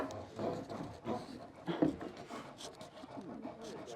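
Wooden window trim is hand-sanded with 120-grit sandpaper at close range, producing soft, uneven rasping and rubbing strokes at a fairly quiet level, with no talking.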